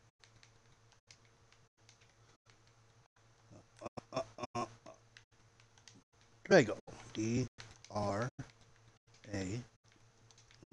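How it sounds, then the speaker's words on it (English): Light clicking on a computer keyboard runs through the stretch, soft and close, with someone talking over it partway through while entering a name in a game. "I don't know if you guys can see me typing it in"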